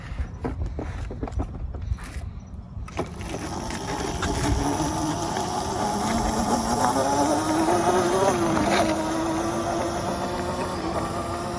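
A small electric Razor dune buggy motor whines during a ride, starting with scattered clicks and bumps, then settling into a steady buzzing hum that rises and falls slightly in pitch as it moves along.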